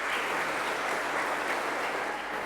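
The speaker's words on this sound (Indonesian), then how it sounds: "Kita beri tepuk tangan untuk anak-anak kita." Steady applause from a congregation at a Christmas Mass, dense clapping that holds at an even level throughout with no voices over it.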